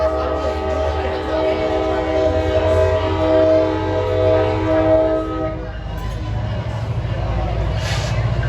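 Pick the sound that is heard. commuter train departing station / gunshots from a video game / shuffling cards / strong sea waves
commuter train departing station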